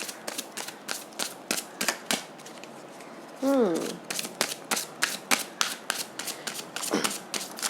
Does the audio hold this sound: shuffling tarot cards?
yes